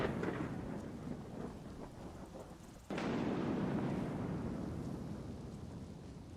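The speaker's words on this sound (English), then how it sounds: "That's a good thunderstorm, isn't it?" A thunderstorm in the modded video game Skyrim: steady loud rain with rolling thunder, then a sharp thunderclap near the three-second mark that swells into a heavier, sustained roar of rain and rumble.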